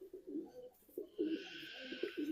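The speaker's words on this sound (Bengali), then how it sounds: "এখানে বিভিন্ন ধরনের পায়রা দেখুন তো" Various kinds of pigeons at a bird farm in Haripur, Namkhana, give a series of low, repeated coos up close, later joined by a steady background hiss.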